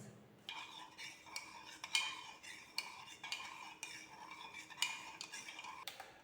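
A utensil stirs borax powder into a casein solution in a container, producing rhythmic scraping and clinking strokes roughly every half second, quiet and close with no talking.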